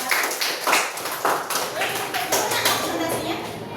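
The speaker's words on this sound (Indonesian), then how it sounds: "Oke, berikan tepuk tangan untuk kelompok 3." A classroom claps for a student group after its presentation, a dense, continuous patter of many hands with soft rises and falls, fairly close, with faint children's voices mixed in.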